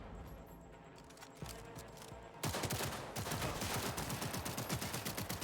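Rapid bursts from an auto pistol in the Cyberpunk 2077 video game: a few scattered shots at first, then a sustained fast volley of closely spaced cracks that runs loud and near to the end.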